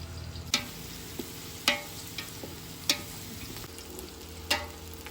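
Onions, green chillies and curry leaves fry in hot oil with a steady low sizzle, broken by sharp ticks and clinks at regular intervals as the pan is stirred.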